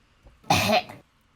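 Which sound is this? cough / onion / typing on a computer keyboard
cough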